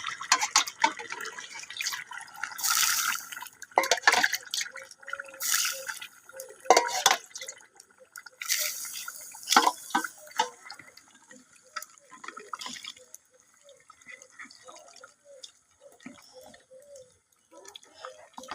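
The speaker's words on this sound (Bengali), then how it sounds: "একটু সিদ্ধ করার জন্য আমি একটু পানি দিব এখানে" Water pours and splashes into a brass cooking pot of beef on a clay stove in several short bursts, followed by quieter drips and gentle liquid sounds.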